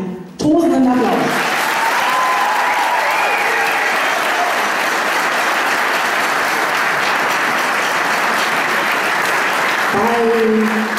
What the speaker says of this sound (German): Dafür mal einen tosenden Applaus.